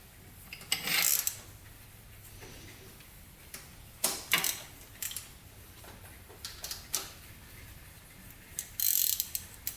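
Ratchet wrench tightening loose exhaust bolts on a Honda 400ex ATV, heard as several short bursts of clicking, close and fairly loud, separated by quiet pauses.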